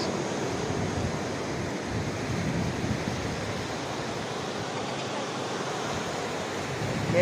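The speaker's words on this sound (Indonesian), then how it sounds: "Oke, kita lagi di pantai." Ocean waves at Gemah Beach wash in as a steady, broad roar of surf, continuous and fairly loud from start to finish with wind mixed in and no clear voices.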